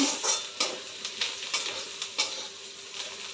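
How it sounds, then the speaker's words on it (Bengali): Onions frying in a pan at home give a steady close sizzle, broken by several scrapes and clatters of stirring at irregular intervals, with no voices. "পেঁয়াজটা ভাজা ভাজা করে নিচ্ছি"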